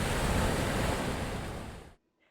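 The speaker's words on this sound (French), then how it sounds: "ou encore le bruit des vagues" Ocean waves washing in a continuous broad roar of surf that holds loud for almost two seconds, then cuts off abruptly into near silence.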